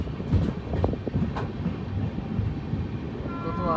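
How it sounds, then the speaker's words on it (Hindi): An express train rushes past close by, seen from aboard the Gaya–Anand Vihar Garib Rath Express. Its loud, continuous rumble and rattle fill the clip, and a brief horn tone rises at the end. "तो आ रही है कोई train. I think Sealdah Duronto लग रही है, हमको ओवरटेक करेगी।"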